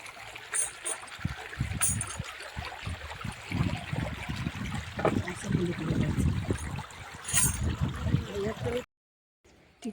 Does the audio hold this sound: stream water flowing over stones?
yes